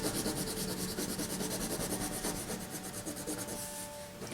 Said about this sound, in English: I know it sounds kind of funny when I do this because behind me is a canvas and so it's like rubbing